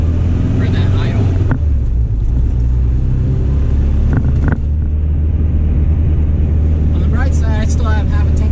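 A 1978 Triumph Spitfire engine idles steadily, a loud low rumble that hunts slightly, heard close with wind buffeting and someone talking over it.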